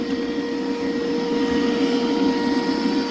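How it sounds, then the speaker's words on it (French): A MOVA V50 Ultra robot vacuum runs with a steady whirring hum and airy suction as debris rattles into its dust bin, close and continuous without speech. "On entend les saletés qui vont ici dans le bac de saleté de l'aspirateur."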